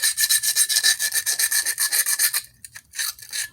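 A knife, already thinned on a grinder, is drawn across a DMT DuoSharp extra-coarse #220 diamond plate, 6 by 2 inches, in quick, even rasping strokes, about twenty in a row, then a short pause and a few more strokes, close and clear with no talk.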